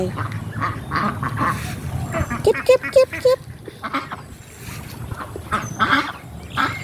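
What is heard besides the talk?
ducks quacking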